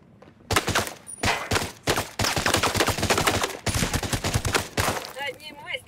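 Rapid bursts of automatic gunfire in the tactical shooter Ghost Recon Breakpoint, close and loud, coming in several long volleys separated by brief gaps, ending with electronic sound effects.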